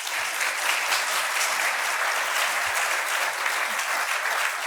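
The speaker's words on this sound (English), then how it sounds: "we'll just give a round of applause to our panel" Audience at a panel discussion on artificial intelligence giving the panel a round of applause: sustained, dense clapping from a sizeable crowd, steady and moderately loud with no speech.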